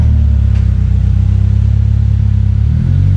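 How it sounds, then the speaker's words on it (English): Red Honda S2000 sports car exhaust rumbles loud and close, a deep steady drone with a slight rise in pitch near the end as it pulls away. "Woo, you can hear that exhaust."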